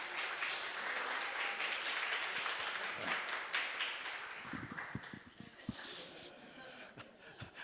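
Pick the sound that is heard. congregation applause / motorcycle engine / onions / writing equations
congregation applause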